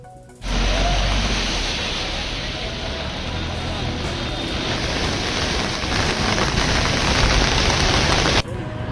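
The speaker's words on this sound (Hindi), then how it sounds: "मुंबई में एक दिन पहले से लगातार बारिश हो रही है" Heavy monsoon rain pours down over Mumbai in a dense, steady roar that stays loud and unbroken for several seconds before cutting off abruptly.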